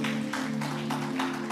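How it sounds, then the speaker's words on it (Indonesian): Church congregation applauding, a dense, steady patter of clapping from many hands over a sustained tonal hum, lasting only a moment. "Tepuk tangan bagi Roh Kudus."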